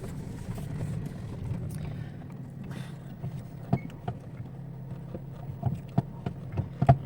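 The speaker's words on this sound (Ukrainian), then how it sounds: "и рейка трошки, звісно, гримить" Low engine rumble inside a moving Chery Amulet, with irregular light rattling knocks from the steering rack below growing more frequent toward the end.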